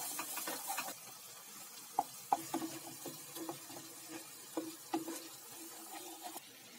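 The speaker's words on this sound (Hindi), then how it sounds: "ये मसाला को अच्छे से भून लेना है। 4 से 5 मिनट तक मैं यहाँ पे मसाला को भून लूंगी।" Masala spices frying in a pan for a Bengali kawai fish curry, a soft steady sizzle with faint scraping stirs and occasional light clinks of the spoon, quiet and close.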